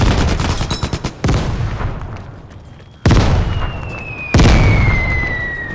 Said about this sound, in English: the mortar is just hitting the tip of the pole. Like, exploding.